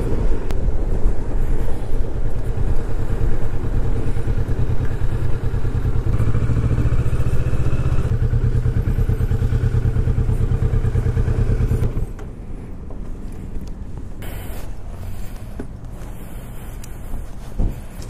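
A Kawasaki motorcycle engine drones steadily and loudly while riding, then drops to a softer idle-like rumble near the end, with faint clatter.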